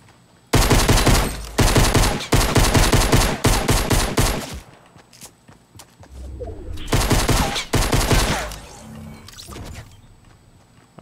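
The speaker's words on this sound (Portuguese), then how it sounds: "tô levando muito tiro sem nem saber da onde" Rapid bursts of automatic gunfire crackle loudly from the Fortnite battle royale video game, several long volleys separated by short pauses, with fainter scattered shots and ambient game sounds between them.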